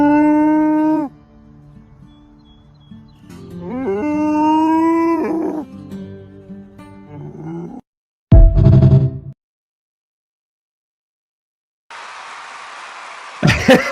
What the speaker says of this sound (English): Do you moo?